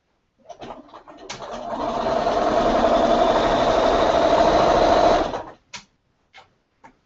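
Bernina sewing machine stitching 15-inch quilt strips together, a steady close motor hum with a rapid needle patter running for several seconds, followed by a few short clicks and bumps.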